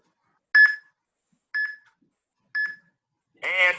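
A workout interval timer gives three short electronic beeps about one second apart, clear and isolated against near silence, followed by a longer, louder final tone.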